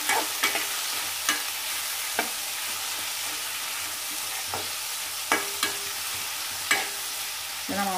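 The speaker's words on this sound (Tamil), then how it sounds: "இதை இப்போ நம்ம நல்லா கொஞ்சம் வதக்கி விட்டு மூடி வச்சிட்டோம்னா சீக்கிரமாக வதங்கிடும்" Capsicum sautés with salt in a hot pan for a lentil kootu, a steady close sizzle broken by a spoon scraping and stirring at irregular intervals.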